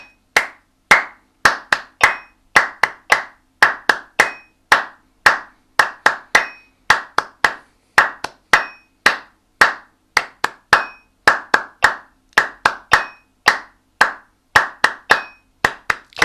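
Sharp hand claps ring out alone in a steady, syncopated warm-up rhythm, grouped in repeating patterns of quick doubles and singles, close and crisp with no talk.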